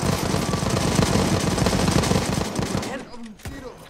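Rapid volleys of gunfire from soldiers in the video game Mount & Blade, in a Spanish Civil War battle, roar loud and dense before cutting off into quieter battle noise.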